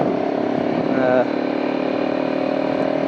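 Motorcycle ride toward Windjana Gorge on a long outback road, a steady close engine drone with wind noise running throughout, briefly swelling in pitch for a moment before settling back to an even hum.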